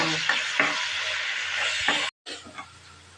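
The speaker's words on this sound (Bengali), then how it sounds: "বেরেস্তা ভেজে নেব" Sliced onions fry for beresta in hot oil, giving a dense, continuous sizzle with stirring scrapes, briefly cut off before resuming.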